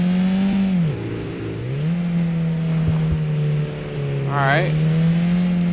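Car engine in a driving video game, a steady low hum that dips and rises as the car slows and revs again, with a short rising whine near the end; someone speaks briefly over it.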